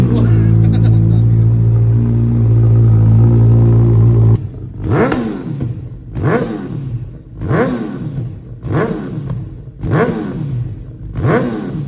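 A Suzuki Hayabusa motorcycle engine idles with a loud steady drone, then revs sharply in a series of about six rising and falling bursts at close range.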